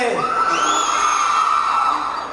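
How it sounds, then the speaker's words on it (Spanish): Girls in the audience at a live Súper Lamas 30th-anniversary concert in Muna, Yucatán scream and cheer in a loud, sustained high-pitched whoop that rises, holds and then fades slightly. "Que se escuche fuerte el grito de todas las chiquillas"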